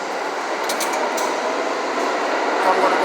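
A New York City subway train at the 50th Street and Broadway station rumbles and hisses loudly and continuously, with faint metallic clinks and squeals mixed into the steady roar.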